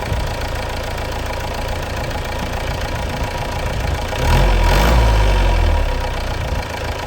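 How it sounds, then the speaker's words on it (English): The engine of a 1990 Mahindra MM540 Jeep runs rough and steady, rattling and droning close by, with a low surge partway through before settling back to idle. "Let me kill the engine now."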